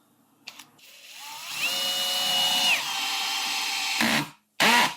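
Cordless drill driver running a screw into wood, its motor whining up and rising in pitch, holding steady for about a second, then winding down, followed by short bursts of driving near the end; close and loud, with no talk.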